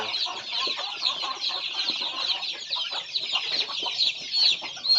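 Native chickens cluck and chatter continuously in a busy flock, many overlapping calls nearby, no voices present.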